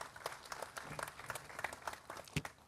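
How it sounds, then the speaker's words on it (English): Audience applause welcoming a speaker at a smart grid conference inauguration, a modest, fairly quiet spread of clapping with a few sharper claps, brief and somewhat distant. "Let's welcome with a round of applause"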